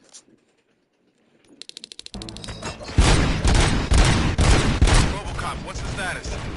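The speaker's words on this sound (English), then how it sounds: "Gunshots? What's going on?" After near silence and a quick run of clicks, a dense burst of gunfire erupts and keeps going, loud and rattling, mixed with booms and scattered voices.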